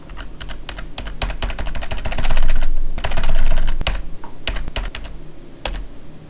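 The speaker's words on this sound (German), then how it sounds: "Verprügel doch deine Tastatur nicht so." Hard, rapid typing on a computer keyboard: dense bursts of loud clacking keystrokes with brief pauses and heavier hammering in the middle, close and clear.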